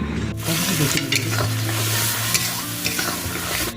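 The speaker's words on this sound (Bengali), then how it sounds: "মশলার মধ্যে আবারও সামান্য পরিমাণে জল আর স্বাদ মতো নুন দিয়ে ভালো করে কষিয়ে নিচ্ছে" Spice paste for doi potol sautéing in a pan with a little water and salt, a loud close sizzle under repeated scraping strokes of a spatula, steady throughout with no talking.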